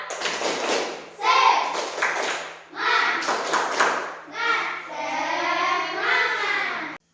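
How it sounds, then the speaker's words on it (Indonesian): Children in an Indonesian primary school classroom clap in a few short bursts on cue, with a patterned cheer-clap between them, close and lively, and young voices talking over parts of it. "Beri tepuk tangan."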